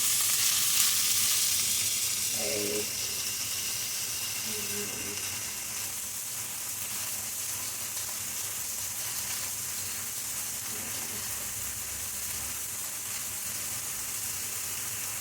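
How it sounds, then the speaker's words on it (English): Sausage patties from a food bank haul fry in a pan with a steady, dense sizzle and hiss that runs throughout, close up, with a few faint clinks early on. "So it basically says to go ahead and cook for 5 minutes on one side, then flip."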